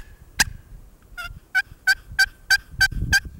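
Soft turkey yelps from a box call, a run of about seven evenly spaced raspy notes after an opening squawk, close and clear against faint outdoor background noise, with no talk.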